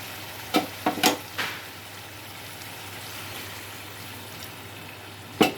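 A spoon scrapes and knocks a few times through gongura curry in a pan, with four quick clatters early on and one more near the end over a low, steady background hum.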